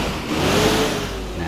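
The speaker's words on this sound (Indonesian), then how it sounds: "Mesinnya ini mesin Mercy ya" A Mercedes bus engine revs in a bus simulator game, a steady mid-pitched drone that swells slightly and holds for a moment, loud and close with no talk over it.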